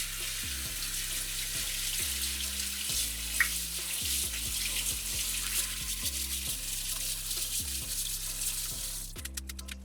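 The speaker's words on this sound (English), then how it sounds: "just simply put it in the colander and then rinse it under cold water" Cold tap water runs steadily over shirataki noodles in a colander in a sink, a continuous hiss with soft splashing and a few faint knocks near the end.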